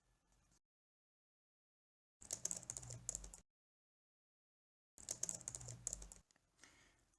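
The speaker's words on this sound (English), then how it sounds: "So I will copy the print statement and type starting" Quiet bursts of typing on a computer keyboard, two main clusters of rapid key clicks separated by silence, close and soft, with no talking.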